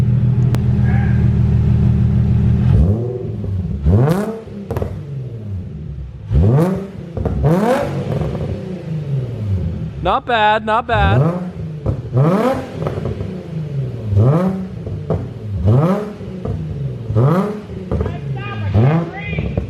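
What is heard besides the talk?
car titanium exhaust idling and revving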